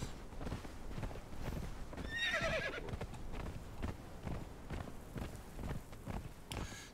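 A horse ridden in Conan Exiles walks with a steady clip-clop of hooves and lets out one clear whinny partway through.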